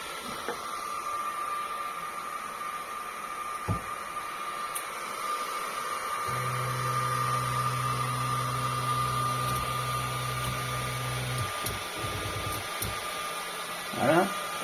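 A Comgrow Z1 10W laser cleaning machine powers up and homes, giving a steady mechanical whir with a low motor hum through the middle and a few faint clicks.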